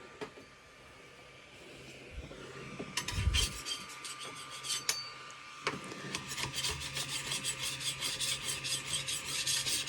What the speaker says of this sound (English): use the scraper a little bit just to clean up the bed